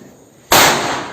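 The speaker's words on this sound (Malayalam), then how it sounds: "ഗൈസ് പടക്കം തകർത്തിയായി പൊട്ടിച്ചുകൊണ്ടിരിക്കുകയാണ്." One loud, close firecracker burst at a Vishu festival celebration, an abrupt bang with a broad, slowly fading rumble afterward and no talking.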